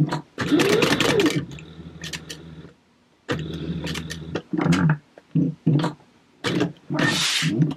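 A sewing machine stitches clear vinyl for a book bag, running loud and close in several bursts separated by short pauses, with a brief final whirring run.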